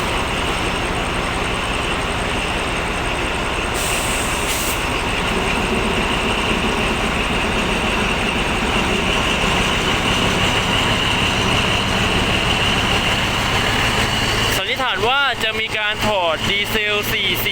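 Diesel locomotive 4409 being uncoupled from its train, a steady loud engine rumble with broadband clatter running throughout, shifting to rhythmic metallic knocking near the end.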